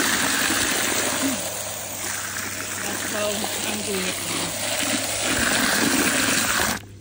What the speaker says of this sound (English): So I'm just gonna pour some water in it